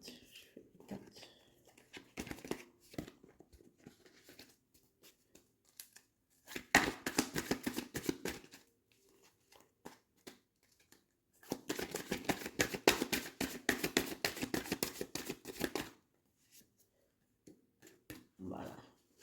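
Tarot cards being shuffled by hand in quiet bursts of dense riffling and patter, three main runs separated by pauses, close and soft with no talk over them.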